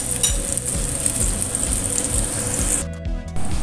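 Fried shallots, garlic and ginger added to a simmering beef soup in a pot, a steady close sizzling bubble that dips briefly near the end, no talking.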